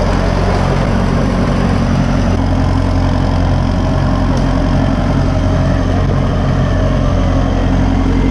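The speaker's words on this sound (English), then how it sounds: "It is a bit of an old dozer." A 1969 loader bulldozer engine runs steadily, a loud, close, continuous diesel rumble and drone that holds without a break throughout.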